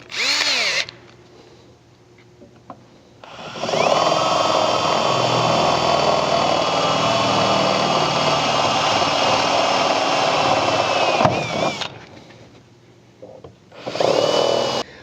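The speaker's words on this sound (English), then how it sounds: "you can go ahead and drill through the inner portion of the slider with that same 3/8 drill bit" A power drill with a 3/8 bit whines loudly and steadily as it bores through a steel Jeep JL Wrangler rock slider for several seconds, with short bursts of motor spin before and after.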